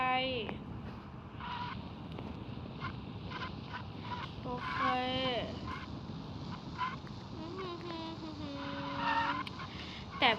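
A car drives and skids in the Sakura School Simulator video game, with tire squeals and engine noise running for several seconds while a person talks over it.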